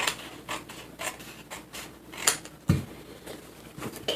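Scissors trim the paper of a pop-up Christmas card, a series of small, close snips and crisp clicks repeating at a quick, uneven rhythm with no voices.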